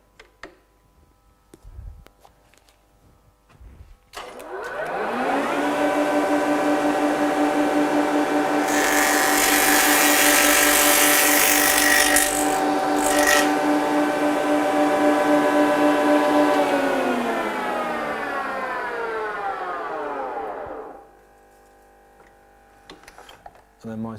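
Single ended tenoner cutting a tenon, a loud machine roar that spins up, holds a steady droning whine with a brief harsher burst at the cut, then winds down, with quiet clicks before and after.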